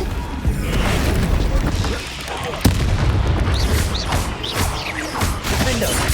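Flipendo spell impacts in the Hogwarts Legacy video game on hard mode, with heavy booming hits and a sharp crack amid a steady, dense battle din, and voices faintly present.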